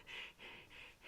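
Quick, shallow breaths come in a rapid rhythm of about four short airy puffs within a second, close but faint, with no talk.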